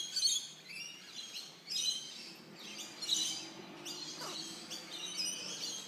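King parrots chirp in the open with thin, high calls repeating every second or two, faint and somewhat distant over a steady background hiss, with no talking.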